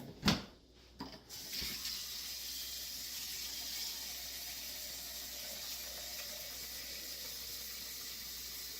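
Tap water runs steadily into a saucepan to cover soybeans for soy milk, a few knocks and clatters at the start and then a constant, soft filling hiss.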